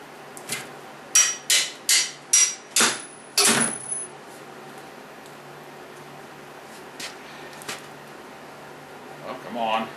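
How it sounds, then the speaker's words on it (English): A hammer drives a new handle onto a treasure digger, giving about six loud, evenly spaced metallic strikes before the scene quiets to faint handling noises. "You get a bigger hammer."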